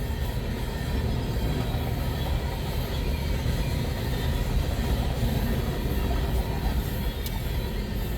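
A CN freight train, B790, hauling loaded potash cars south of Ladysmith, Wisconsin, gives a loud, constant rumbling roar close by that holds steady throughout without letting up.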